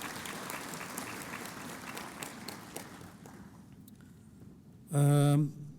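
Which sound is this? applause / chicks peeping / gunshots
applause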